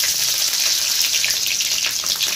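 Green chilies and cumin sizzle in hot oil in a kadai, a loud, steady close-up crackle of frying that holds without a break.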